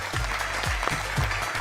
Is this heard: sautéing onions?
no